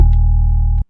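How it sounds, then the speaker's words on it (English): A sustained, sound-sculpted electric piano chord with no effects, a steady low drone and a bright tone, held evenly for under a second before cutting off abruptly. "which is the electric piano that I'm doing a bunch of sample or sound sculpting on."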